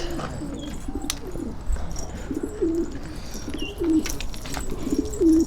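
Pigeons cooing softly several times in a row on a high rooftop, their low rolling calls set against steady outdoor background noise, with no talking.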